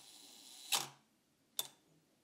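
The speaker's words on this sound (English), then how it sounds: "And our shutter release, this will be a 1 second exposure." Two crisp mechanical clicks from a 35mm film camera: the shutter opens, then closes about a second later, close and clear against faint room hiss.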